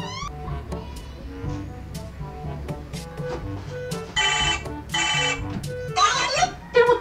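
A cellphone rings at home in repeated electronic ringtone bursts, loud and close, with a voice and other talk mixed in around it.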